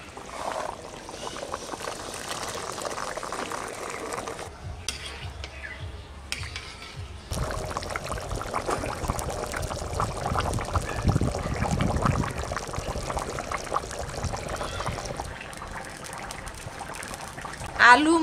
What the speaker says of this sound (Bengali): জল ফুটিয়ে গেছে, এখন মটরশুঁটিগুলো দিয়ে দেবো,